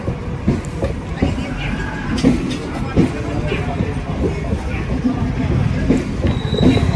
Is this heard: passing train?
yes